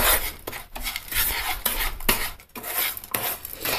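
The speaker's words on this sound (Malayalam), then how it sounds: "എല്ലാ സ്ഥലത്തും ഇളക്കി ചെല്ലണം." Sugar caramelizing in a pan for a semolina (rava) pudding is stirred with a utensil, giving loud, close scraping strokes that come in uneven bursts with brief pauses between them.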